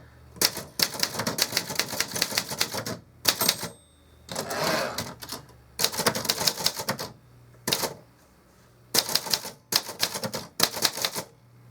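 A 1970 Remington Streamliner II manual typewriter clatters in loud, close bursts of rapid keystrokes separated by short pauses, with an occasional single key strike and faint carriage sounds.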